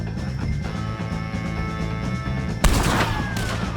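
Video game gunfight against O'Driscoll gang members: a steady background rumble of scattered shots, then a sudden loud blast and a denser burst of gunfire near the end.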